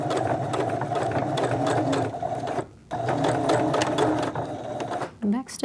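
A sewing machine stitches a replacement zipper onto a reversible hoodie in short bursts of rapid mechanical whirring, close and loud, with a brief pause midway as a person talks over it.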